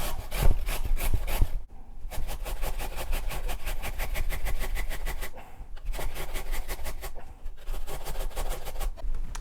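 A carrot being grated on the large holes of a box grater, rapid rhythmic rasping strokes close by in quick bursts with short pauses between runs, no voices.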